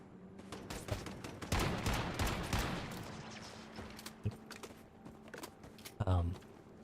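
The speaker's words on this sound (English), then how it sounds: "Who's shooting at me?" Bursts of gunfire in the survival game Once Human, quick clustered shots at moderate loudness with keyboard clicks mixed in and a person talking over them.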